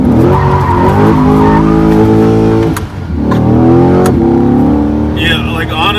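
A 2020 Chevy Corvette C8 slides with traction control off, its engine revving hard with strong harmonic tones while tires squeal, loud and close, with a brief dip in the engine note midway.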